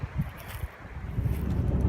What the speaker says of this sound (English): It's a little windy, but the wind's gonna die down.